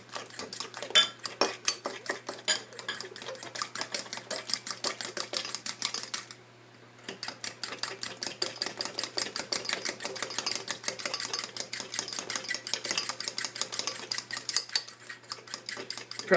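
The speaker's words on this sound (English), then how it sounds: "We have to just keep on mixing it until it's very nice and creamy looking." Butter being mixed with three egg whites in a bowl, a steady fast rhythm of utensil clicks and scrapes against the bowl running throughout, with one brief pause partway through.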